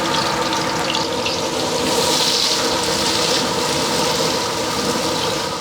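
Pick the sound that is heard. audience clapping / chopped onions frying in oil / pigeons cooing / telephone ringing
chopped onions frying in oil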